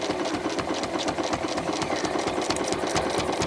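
A sewing machine runs steadily through free-motion quilting, zigzagging along diamond sashing, with a fast, even mechanical chatter that stays close and loud throughout.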